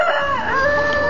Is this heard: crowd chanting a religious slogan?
no